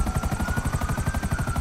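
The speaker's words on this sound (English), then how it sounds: "But this chopper, I'm not gonna let this guy get away with my chopper." A Buzzard police helicopter flies in Grand Theft Auto V, its rotor giving a loud, fast, steady thumping beat with a sustained engine whine close by and no speech.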